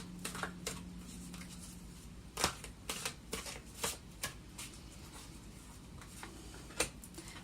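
Tarot cards shuffled and drawn close up: repeated soft riffling snaps and card slaps in an irregular rhythm, quiet and intimate, with a faint low hum beneath.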